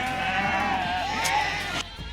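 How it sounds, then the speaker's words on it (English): At feeding time on a goat farm, a goat gives one loud, drawn-out bleat nearby over rumbling background noise, which then cuts off abruptly. "The goats are now here to come and feed."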